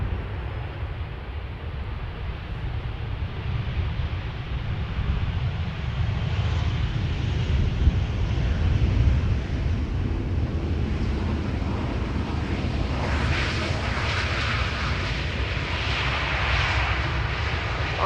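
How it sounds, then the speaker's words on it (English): A KLM Boeing 737-800 arriving from Paris touches down at Amsterdam Schiphol, heard as a continuous broad roar of jet engines and rushing air, growing brighter and more hissing near the end, with some wind buffeting the microphone. "KLM flight 1224 arriving from Paris Charles de Gaulle. Touching down after 15 minutes of flight."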